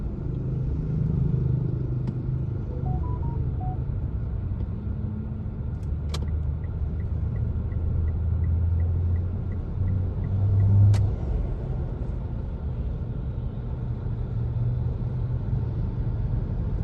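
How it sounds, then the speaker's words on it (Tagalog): Large trucks pass along a wide national road near a cemetery in Cabanatuan City, a steady heavy rumble of engines and tyres that swells as vehicles go by, with a couple of sharp brief clicks and no talking. "Mga malalaking truck yung mga kasabayan natin ngayon"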